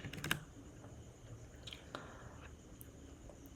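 Quiet, scattered key clicks come from a computer keyboard nearby, a few sharp taps among soft irregular presses in an otherwise hushed room.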